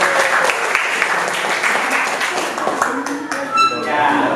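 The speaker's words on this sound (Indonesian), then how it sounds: "kasih tepuk tangan dulu" An audience applauds during a teaching performance assessment, with a steady patter of hand clapping for several seconds that thins out toward the end, mixed with a voice talking.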